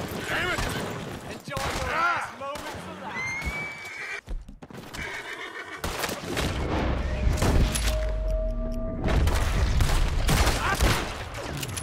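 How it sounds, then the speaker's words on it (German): Horses ridden past by other riders in the Red Dead Redemption 2 video game neigh and whinny loudly, with hoof clatter and distant gunfire bursts mixed in while someone talks over the game sound. "es reiten tatsächlich einfach nur Leute vorbei"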